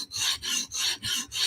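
A knife edge, a Medford flipper or PM2 with DLC coating, is sharpened on a Hapstone RS guided system, with five rhythmic rasping strokes of the stone along the blade, each separated by a brief pause, close and clear without voices.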